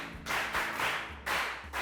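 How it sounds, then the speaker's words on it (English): Schoolchildren in a primary classroom clap their hands together in a few loud, strong bursts, close by, with no talking over the sound. "Can we clap for her? Strong hand clap,"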